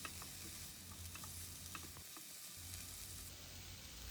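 Sautéed paneer stirred with veggies for a chilli garlic broccoli stir fry, a faint continuous sizzle with light scraping stirs throughout and a brief lull midway.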